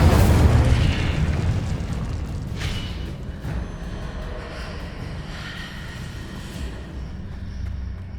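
Spell blasts from Confringo and Incendio cast in Hogwarts Legacy: a loud booming burst at the start, then a rumbling, crackling magical tail that fades into a steady low roar with scattered pops.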